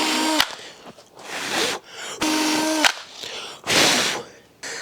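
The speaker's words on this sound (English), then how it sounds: "now we're gonna drill that hole in it" A power drill whirs in several short bursts, close up, with a grinding bite into a 2x4 wood board between pauses.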